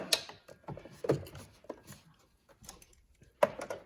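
A hand ratchet tightens the negative terminal clamp on a replacement battery in an Infiniti car, giving several close, sharp clicking bursts in short irregular runs with quiet gaps between.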